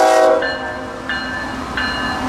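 A loaded CSX freight train of hopper cars carrying mineral aggregates, with repeated sustained horn blasts sounding over a steady rumble, three blasts in quick succession, loud and close.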